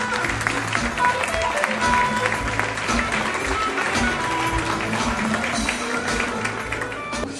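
An audience at an e-commerce awards evening claps loudly and steadily, a dense crackle of many hands with scattered taps, continuing throughout without a break.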